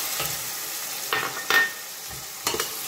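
Onion, garlic and red pepper frying in a pan for braised beef with peas, a soft steady sizzle broken by a few brief stirring scrapes, close and fairly quiet with no voices.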